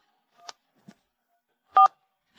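Telephone keypad tones sound in an animated Chinese drama: two short, faint beeps, then one louder, clearer tone, with silence between them.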